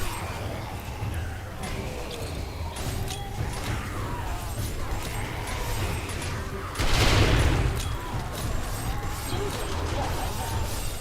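Gunfire rattles without a break in 7 Days to Die during a blood moon horde night. The shots are dense and distant, and a louder burst of blasts swells briefly midway through.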